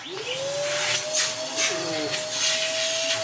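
A V-TUF Mini HSV X2 M-Class vacuum cleaner runs with a steady, fairly quiet motor drone and a rising whine that settles into a constant tone, with soft airflow rushing over it.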